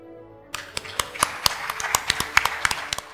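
An audience in Mersin applauds as the governor is welcomed on stage, with sparse, distinct hand claps from a smaller group in an irregular rhythm, close and crisp, starting after a short silence.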